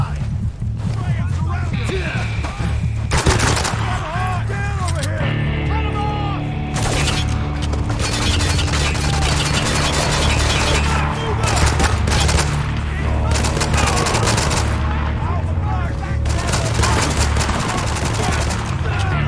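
Sustained gunfire in the war shooter Spec Ops: The Line, rapid bursts and single shots cracking continuously over a droning battle din, with voices shouting and talking throughout.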